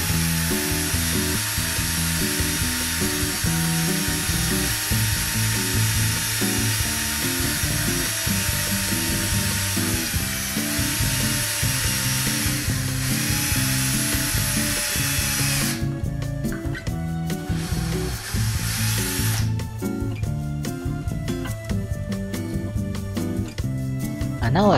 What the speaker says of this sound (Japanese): キャップにも穴を3個開けておきます。